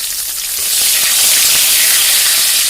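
Loud, steady sizzling as nigella seeds and two small tomatoes hit hot oil in a pan, the hiss swelling after the first half second and holding bright and continuous with no talking.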